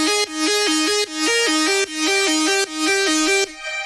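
Several stacked synth presets, including layers from Vital, Alchemy and Flex, play together as a bright, buzzy repeating chord pattern with a bouncing melodic line, steady pulses over nearly four seconds, loud and close with no voices.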